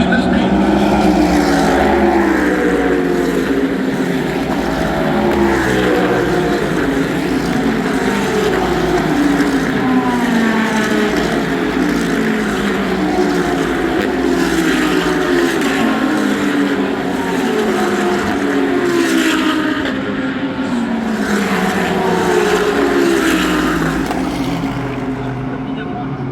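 GT World race cars at the Paul Ricard circuit roar continuously with rising and falling engine notes, loud and dense, with commentary running over the top throughout.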